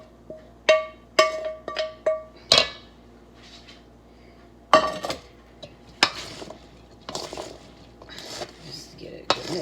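Ground turkey mixture stirred into vegetables in a pan for a turkey stew: a run of sharp metallic clinks and scrapes of a utensil against the pan, followed by softer, irregular stirring knocks with scattered pauses.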